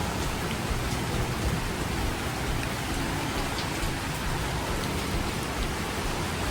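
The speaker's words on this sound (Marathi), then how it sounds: "आणि आता इथे खूप पाऊस पडतोय" Heavy rain pours outside near Aguada Fort, a dense, steady hiss of downpour that stays loud and unbroken throughout, with no voices over it.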